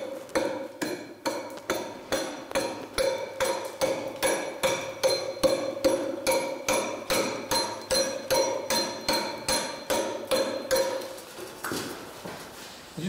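Steady hammer blows on a pointed chisel (Zweispitze) working the rough surface of a stone blank, about two strikes per second, sharp metallic clinks ringing close and loud for the whole stretch with no talk.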